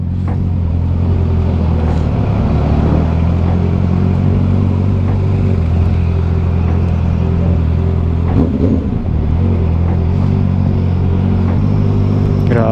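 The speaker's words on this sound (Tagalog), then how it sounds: "What is this traffic, boys?" Road traffic around a Honda CB650R motorcycle, a constant loud engine drone with low rumbling and occasional revving as other vehicles pass in congested city traffic.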